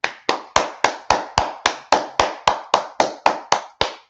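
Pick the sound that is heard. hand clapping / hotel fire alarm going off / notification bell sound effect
hand clapping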